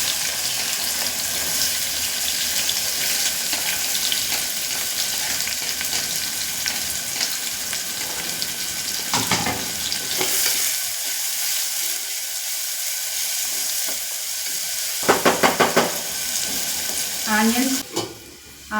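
Onions are added to a pan of roasting ingredients for mutton curry and fry with a loud, continuous sizzle, broken midway by a quieter gap and a burst of stirring scrapes and clatter near the end.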